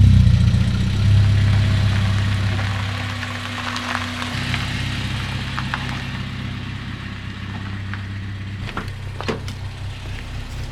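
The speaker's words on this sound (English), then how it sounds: "let's jump in and just give you guys some VTEC noises" A Honda EP3 Civic Type R with its VTEC engine idling, a steady low rumble up close, dipping slightly midway, with a few brief clicks and knocks near the end.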